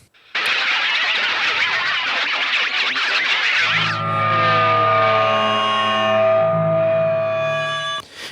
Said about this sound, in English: just kind of scrape the metal against the strings to get like a wah, wah, wah, wah, wah